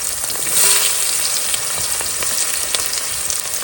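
Bay leaf and onion fry in a pan as a curry is started, giving a steady, fairly loud sizzling hiss that swells slightly near the start and then holds even, with faint crackles and no voices.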